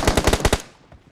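Automatic gunfire in the mobile game PUBG Mobile rattles off as a rapid, loud burst of about six shots, then trails into a faint tail with a distant extra pop.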